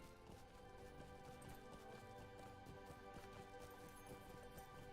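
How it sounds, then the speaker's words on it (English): Horse galloping in the video game Lord of the Rings Online, a quiet rapid run of hoofbeats under in-game ambience. "Oh, you want to see some of the horse physics?"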